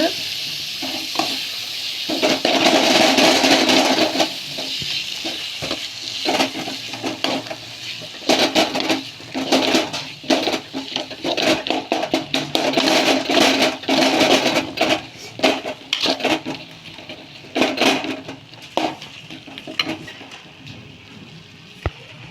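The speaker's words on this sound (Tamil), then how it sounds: "இப்போ பார்த்திங்கன்னா நம்ம சன்னா போட்டுக்கலாம். நல்லா வதக்கிடுங்க." Chickpeas sautéed in a pan of onion, tomato and ginger-garlic masala, with continuous loud sizzling and frying under repeated rhythmic spatula scrapes and stirs against the pan, close and steady throughout.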